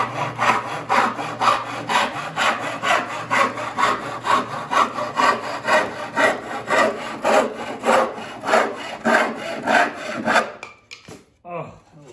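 A freshly sharpened hand saw crosscuts through wood in loud, regular back-and-forth strokes, roughly two per second, before the rasping stops abruptly near the end, leaving a few faint clicks.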